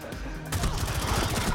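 Rapid gunfire in the tactical shooter Rainbow Six Siege, a dense, steady burst of shots starting abruptly after a brief lull and continuing loud and close to the end.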